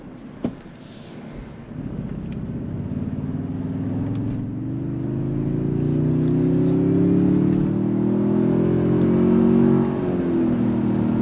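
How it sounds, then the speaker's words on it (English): A 2023-2025 Toyota Sequoia accelerates onto a highway. Its engine note climbs steadily and loudly for several seconds over continuous road rumble, with no talking. "So now we're getting on the highway where the speed limit's 70, so we can get up the speed."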